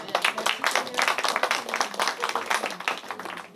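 A church congregation claps in quick, uneven bursts, many hands close by with a lively, rhythmic patter that stays fairly loud throughout.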